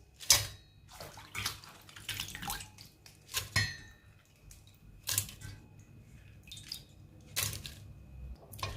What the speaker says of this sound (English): I'm just going to wash it quickly and add it to my pot.